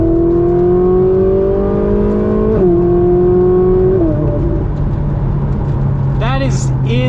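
A Ferrari 458 Spider accelerates on partial throttle, its engine note climbing steadily through a shift and pulling hard, loud and close from inside the car.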